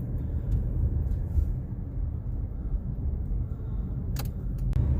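A car drives along an empty road in Millvale on a hot day, a steady low engine and tire rumble from inside the cabin with a couple of faint metallic jingles.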